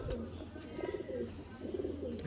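Gulab Sira pigeons cooing in soft, repeated rolling phrases, fairly close, over a low steady background hum with faint chirps.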